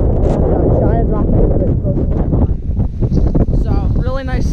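Strong wind roars and buffets the microphone on a cold winter mountain summit in the Mt Colvin and Blake Peak area, steady and loud throughout, with a person speaking over it.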